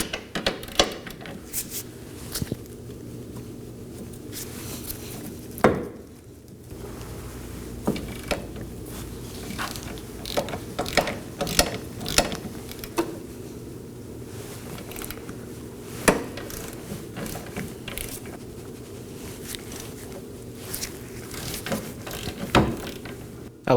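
A ratchet works 21mm bolts loose on the rear knuckle and trailing arm of a 2018-2024 Chevrolet Equinox 1.5L, giving repeated clicking strokes and metallic clanks that are close and fairly steady throughout.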